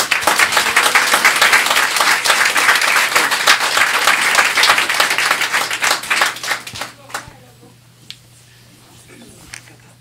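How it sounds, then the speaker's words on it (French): Loud applause from guests at a 75th wedding anniversary vow renewal, dense clapping that continues for several seconds, then thins out and fades to scattered claps. "je vous invite à applaudir Mme Hélène Lavoie"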